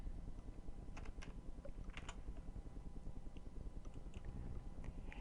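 Someone types a name on a computer keyboard, a few light quick key taps scattered over a soft steady background hum, quiet and close, with no voices.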